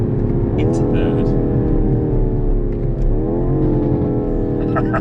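A BMW M5 Competition accelerates hard on a track, its engine a loud, steady close roar that climbs in pitch, drops briefly with a gear change into third and pulls again, with a brief voice over the engine.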